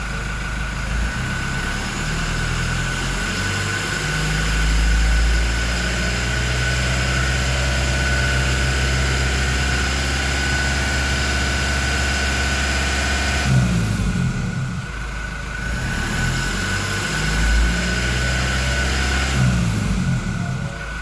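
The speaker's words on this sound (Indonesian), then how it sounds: "Nah, itu tadi saya gas sampai 2000 rpm." A Toyota Innova turbo engine fitted with a Datatec air filter is revved to 2000 rpm, a steady low idle-like rumble with a constant whine, dipping briefly near the end as the throttle is released.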